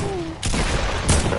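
Gunfire in the video game Fortnite: two loud, close bursts of shots, each hitting hard and then trailing off.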